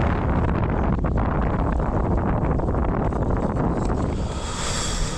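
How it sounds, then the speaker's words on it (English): Strong wind at Huguenot Park buffets the microphone continuously, a loud rumbling roar with gusty bursts throughout. "Way too windy out here, guys."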